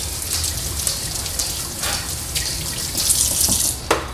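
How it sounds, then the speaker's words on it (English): Water runs steadily from a kitchen tap while a collapsible colander is rinsed in a sink, a continuous close hiss with small splashes and drips, no talking. "and you guys can rinse it off"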